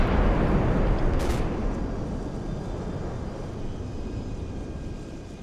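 Artillery from a fire mission strikes a BMP armored vehicle in the war game Combat Mission: Black Sea, a heavy rumbling blast with a sharp crack that slowly rolls away into a low fading roar.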